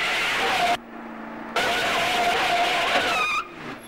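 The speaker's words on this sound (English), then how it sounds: "Here are some headlights. Hang on, Penny. There's a car." In an animated Fireman Sam scene, a car engine whooshes past at close range, cutting out briefly midway, then rising again before fading with a faint high whine at the end.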